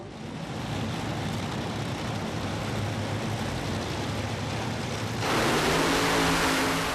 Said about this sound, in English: Started to spin the tyres down the racetrack.